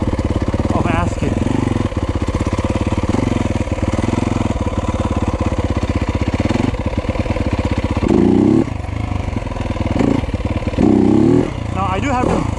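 A Yamaha YZ250F dirt bike engine, close and loud, idling with a rapid pulsing chug and then revving hard in bursts as the front end lifts into a wheelie, with the engine pitch rising and falling; a voice speaks briefly over it.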